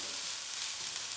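Vegetables and seasonings for an omelette fry in a pan with a steady, bright sizzle, close and continuous with no talk.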